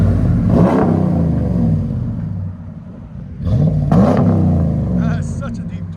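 A 2016 RAM 1500 with a 5.7L HEMI V8 and Flowmaster Super 44 exhaust revs twice at a shop, each deep, loud rumble swelling and falling back to idle.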